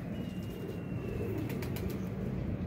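Soft, low cooing of Teddy pigeons against a steady background hum, with a few faint chirps partway through.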